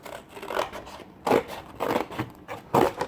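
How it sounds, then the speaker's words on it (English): Scissors snip through paper while cutting a junk journal snowflake specimen card, three or four crisp close strokes in an uneven rhythm with quiet pauses between them and no talk. "Let's take my scissors and just cut along"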